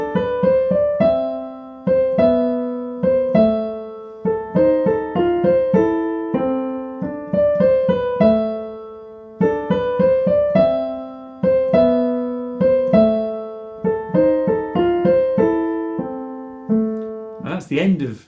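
A piano plays the A section of Tchaikovsky's Swan Lake, a solo melody over steady bass notes in repeated phrases with clear struck attacks and decays, close and alone.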